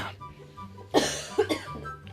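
A nine-month-old baby gives a few short coughs, two or three quick bursts close by, with faint adult voices and low background hum around them.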